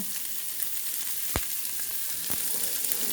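Bacon frying in a pan as the first step of a potato rösti, a dense, steady sizzle with a couple of sharp pops of fat, close and even, with no one speaking.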